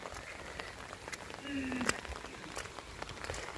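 Rain falling at a goat and sheep farm, a soft, steady patter on surfaces with scattered sharper drips and knocks, fairly faint and distant, with a brief tonal squeak partway through.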